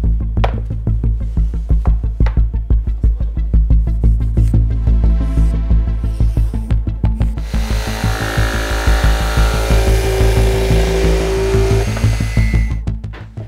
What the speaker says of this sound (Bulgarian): Сега мога да пренеса формата върху плочата и грубо да я изрежа с прободен трион.